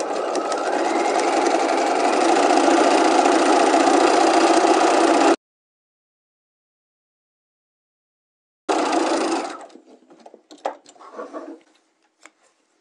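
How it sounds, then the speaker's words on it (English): Sewing machine stay stitching a quarter inch along the bottom edge of bias interfacing fabric for a neckline: a steady, fast mechanical whir for about five seconds, silence, then a short burst trailing into scattered light clicks. "So let's go ahead and do that with the sewing machine."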